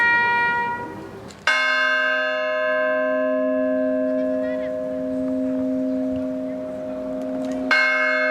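A church bell tolls at a war memorial ceremony during a village festival. Two loud, ringing strikes come a few seconds apart, and the long, humming decay of the first strike fills the gap before the second.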